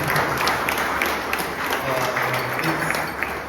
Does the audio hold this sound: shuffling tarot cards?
no